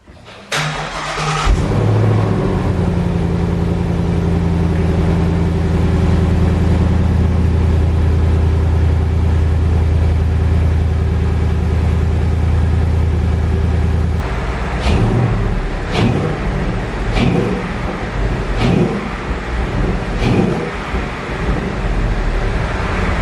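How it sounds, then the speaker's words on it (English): A salvaged Ford Mustang 5.0 V8 with a resonator-delete H-pipe exhaust cold-starts with a loud burst, settles into a steady rumbling idle, then gives several short sharp revs near the end. "cold start up, a little bit of idle, and I'll give it a quick little blip"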